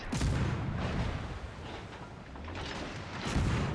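Main guns on an enemy warship fire in a naval combat game, with heavy, rumbling booms that roll on almost without a break and swell loudly at the start and end.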